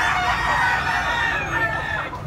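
A big-sized Lemon 84 bloodline bullstag gamecock crows loudly and close, one long drawn-out call with strained harmonics that fades at the end, over a steady outdoor background.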